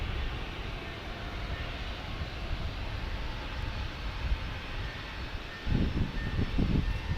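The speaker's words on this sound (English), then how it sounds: "after that Cessna Citation departure" A Cessna Citation business jet departs San Diego airport, a steady broadband roar that holds from start to finish and swells slightly near the end, with no talking.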